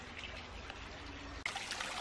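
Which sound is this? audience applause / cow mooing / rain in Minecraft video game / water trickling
water trickling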